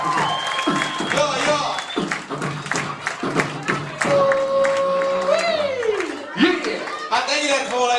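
A crowd claps and cheers at a summer camp show with a music act on stage. The applause is dense and continuous, with whoops and laughter, and a voice on the loudspeaker talks over it.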